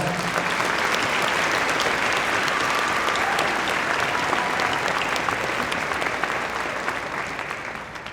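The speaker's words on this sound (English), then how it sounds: "Let's give them another round of applause." An audience at a Veterans Day ceremony applauds for a choir, band and orchestra, a dense, steady clapping from a large crowd that slowly fades toward the end.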